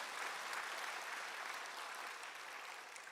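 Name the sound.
congregation applause for the choir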